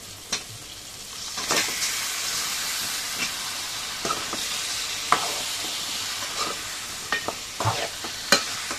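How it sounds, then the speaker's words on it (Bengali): Desi chicken pieces stirred into frying spices in a pan, a continuous close sizzle broken by irregular scraping and knocking strokes of a spatula, no one speaking. "আর একটু নেড়ে চেড়ে তাতে দিয়ে দেব মাংসগুলো।"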